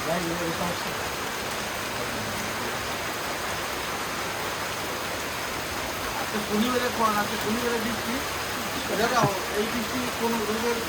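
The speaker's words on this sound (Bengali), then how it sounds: "দেখতে পাচ্ছেন অনেকেই আমরা চতুর্পাশে বৃষ্টি হইতেছে" Rain falls all around a neighborhood shop as a steady broadband hiss, with people talking faintly nearby over it.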